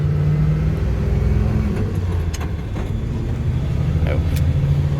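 A 2001 Ford F450 truck with a V10 engine and 5-speed manual gearbox rumbles steadily at close range as it drives and shifts gears, its low engine drone continuous throughout.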